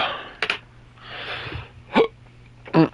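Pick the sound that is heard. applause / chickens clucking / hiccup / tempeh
hiccup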